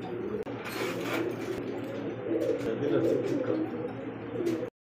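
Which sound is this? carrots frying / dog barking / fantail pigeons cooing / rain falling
fantail pigeons cooing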